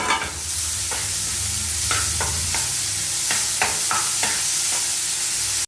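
Homemade ginger garlic paste sizzles loudly and steadily in a hot pan, a constant bright frying hiss broken by repeated scraping stirs of a utensil; no one speaks.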